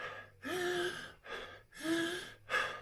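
Sharp gasping inhalations during shallow, very thoracic breathing, air drawn in hard and never fully let out; three to four close, loud breathy pulls in a steady rhythm, with no talk.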